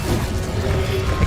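An Incendio fire spell cast in the video game Hogwarts Legacy gives a brief, loud, crackling burst with a low thump, lasting barely more than a second.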